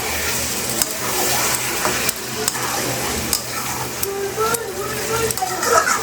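Marinated mutton sautéing in a pan as it is stirred, a continuous sizzle broken by regular scraping strokes, with a voice talking over parts of it.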